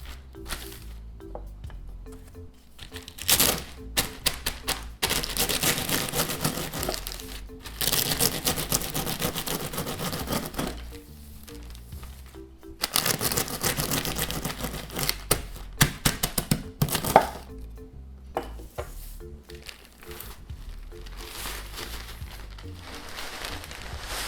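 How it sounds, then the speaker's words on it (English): Tortilla chips being crushed into crumbs, a dense crackling and crunching that comes in long loud bursts with short pauses, close up, with no talking. "You could crush the tortilla chips"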